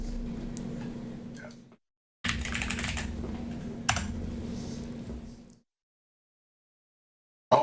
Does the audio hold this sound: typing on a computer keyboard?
yes